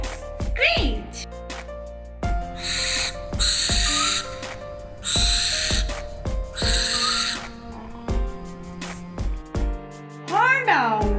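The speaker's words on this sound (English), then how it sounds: "Barn owl sound name screech." A barn owl gives repeated harsh, hissing screeches in several loud bursts, with a short voice in between.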